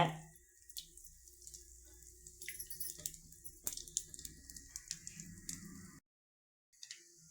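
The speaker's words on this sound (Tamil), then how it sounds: "கடுகு பொரியுது" Mustard seeds splutter and pop in hot oil in a pan while making carrot-beans paruppu usili, a steady run of small crackles and sharp pops close by, with the sizzle cutting out briefly near the end.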